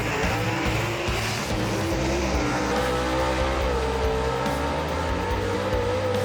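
Gasser drag cars, including a 1955 Chevy called the Chick Magnet, race at Knoxville Dragway with a loud, sustained engine roar that holds close and heavy throughout, its pitch shifting slightly as the cars accelerate.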